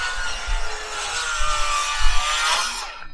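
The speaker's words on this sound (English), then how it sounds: "Cutting off rafter tails right now." A saw cuts through wooden rafter tails on a barn addition, close and loud, with rhythmic rasping strokes about every half second that fade as the cut finishes.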